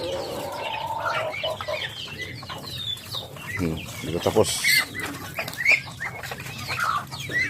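Hungry native chickens in a farm pen cluck noisily at feeding time, several birds overlapping with a brief burst of wing flapping, while someone speaks intermittently nearby.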